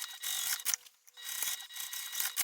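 A home sewing machine stitching a straight seam with full seam allowance, its needle mechanism whirring in steady bursts that pause briefly between runs, close and moderately loud.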